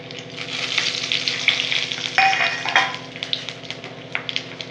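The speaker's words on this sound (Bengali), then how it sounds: "এখন ওই তেলের মধ্যেই আমি দেখো তেজপাতা, গোটা জিরে, এটা হচ্ছে দারচিনি, লবঙ্গ," Bay leaves, whole cumin, cinnamon, cloves and cardamom crackle and sizzle in hot oil left from frying fish, a continuous close hiss broken by sharp pops and scraping stirs.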